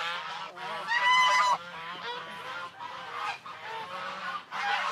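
Geese honk loudly in a flock, with repeated overlapping calls rising and falling throughout, one rough burst especially prominent early on, heard close by with no talking.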